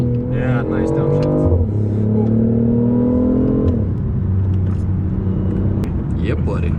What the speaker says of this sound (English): I can't describe in words how it feels to sit beside Nicholas when this e-boost acceleration kicks in